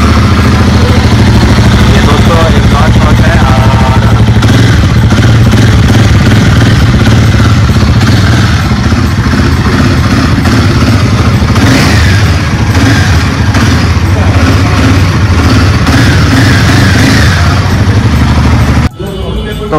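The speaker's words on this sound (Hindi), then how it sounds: "तो ओवरऑल गाड़ी का मैं आप लोग को एग्जॉस्ट नोट सुना देता हूँ" A Royal Enfield 450cc motorcycle runs loud and close, its exhaust thumping at idle and then swelling through repeated revs before cutting off abruptly near the end.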